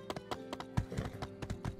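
Horse hooves clip-clopping at a quick gallop in the My Time at Sandrock video game, a steady rhythm of close, distinct hoofbeats with no talk over them.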